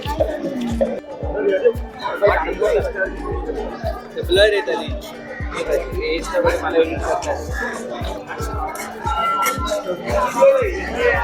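Dense hubbub of a crowd of devotees at the Khandoba (Khanderao Maharaj) temple fair in Pimpalgaon Nipani, Nashik: overlapping chatter and voices close by, with steady rhythmic drumbeats pulsing underneath throughout.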